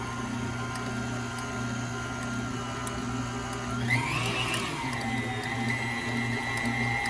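Steady electric mixer whirring while creaming peanut butter, a constant low motor drone with a brief shift in pitch midway, moderately quiet and alone.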